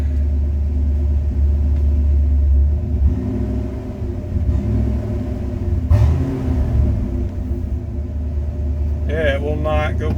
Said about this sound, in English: right now it seems to run smooth, but it just runs high since I closed it. What happens when I tap the gas again?